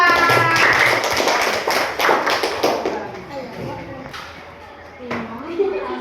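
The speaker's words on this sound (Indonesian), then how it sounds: "tepuk tangan untuk kelompok 2" Primary-school pupils clap for a group in a classroom, a burst of scattered hand claps and taps that thins out, with children's voices and talk running throughout.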